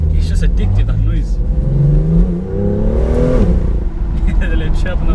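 Loud 2018 BMW M2 engine and exhaust revving on and off the gas from inside the car, surging and dropping repeatedly with crackling pops, while a person talks over it.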